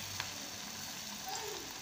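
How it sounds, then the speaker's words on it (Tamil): Wheat egg bonda batter fries in hot oil with a steady, soft sizzle and light crackle, fairly quiet and unbroken, with no talking. "இப்போ எண்ணெய் நல்லா சூடாயிடுச்சு இப்போ நம்ம போண்டாவை போட ஆரம்பிக்கலாம்"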